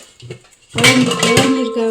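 An old antique brass cooking vessel of about three litres capacity handled close up, giving a bright metallic clank and ringing resonance that sustains for over a second after a faint earlier knock.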